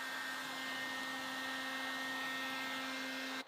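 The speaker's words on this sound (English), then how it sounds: "I'm grabbing the hairdryer." A hair dryer blows steadily on car wrap vinyl during the wrapping of a drift BMW, a loud, continuous whooshing roar with a steady motor hum that runs unbroken and then cuts off abruptly at the end.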